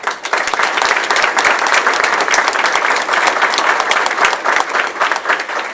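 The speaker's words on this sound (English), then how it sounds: "Let's have a round of applause." An audience at a school board meeting breaks into sustained applause, dense clapping that fills the room steadily for several seconds without talk.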